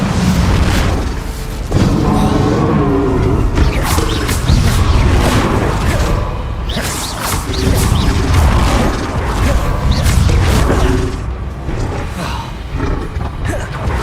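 In Hogwarts Legacy, the Incendio fire spell is cast amid combat, producing loud, continuous roaring blasts and booming bursts that swell and overlap with other spell impacts throughout.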